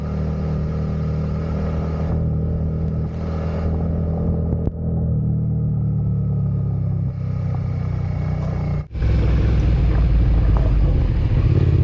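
A motorcycle rides slowly along a rocky, dusty dirt road, its engine a steady, close mid-pitched rumble that dips briefly before picking up louder near the end.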